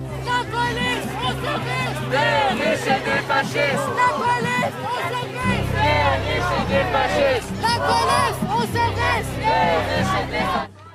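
Large protest crowd massed at a police line, a dense roar of many voices with shouting and rising agitation, loud and continuous throughout, growing heavier and more forceful in the second half.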